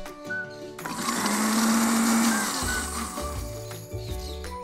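Electric hand mixer beating two eggs for homemade mayonnaise, a steady whirring drone that starts after a second of quiet, holds loud and even, then eases slightly toward the end.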